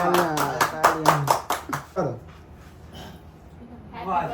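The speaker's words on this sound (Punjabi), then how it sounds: "ਮੰਮੀ ਵਾਸਤੇ ਤਾਲੀਆਂ ਵਾਹ ਜੀ" Close, quick hand claps ring out for a mum's birthday, a fast run of about ten sharp claps that stops abruptly, followed by softer sounds and a voice.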